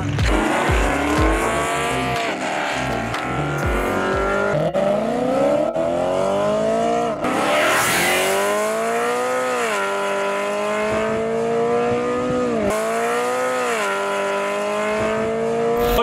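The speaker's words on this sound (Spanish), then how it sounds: "después de ver las salidas, solo queríamos comentaros que el coche de Dani, el BMW, tiene Launch Control y el Camaro no tenía Launch Control." A BMW M3 and a V8 Camaro launch off a drag strip start line, with engines revving hard, roaring and rising in pitch through repeated gear shifts, tires squealing as the cars pull away.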